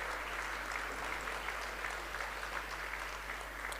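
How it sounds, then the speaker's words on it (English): Audience applause for a Deputy Minister of Social Development stepping up to a podium at a school event for the International Day of the Boy Child, steady dense clapping at a moderate distance, fairly faint and uniform throughout. "Let's give him a big round of applause as he makes his way on to the podium."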